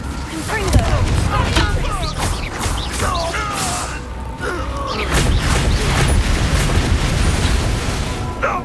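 Spell blasts from Incendio and Confringo in the video game Hogwarts Legacy, a dense run of booming fiery bursts and crackling impacts layered with battle noise and shouted voices.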